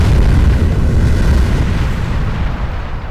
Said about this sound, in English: this combination of real demolition with wonderful dressing of special effects explosions